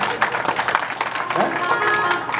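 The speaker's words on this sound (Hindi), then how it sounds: "ताली धीरे बजाओ, हाथ में मौज आ सकती है" An audience claps at a Hindu religious discourse telling the story of Gaj and Grah. Light, scattered clapping runs under a man's steady, prominent speaking voice.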